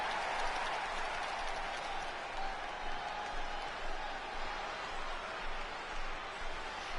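Steady crowd applause and cheering inside the arena of the WWE 2K20 wrestling video game, a dense continuous roar with rolling swells, fairly loud throughout and with no talk over it.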